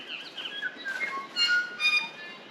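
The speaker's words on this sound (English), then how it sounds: "You can no doubt hear the tuis in the trees." Tui birds call from the surrounding trees of an arboretum near Gisborne, New Zealand, a mix of clear whistled notes and chirps, moderately distant, with two louder bursts of song near the end.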